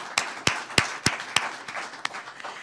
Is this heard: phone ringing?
no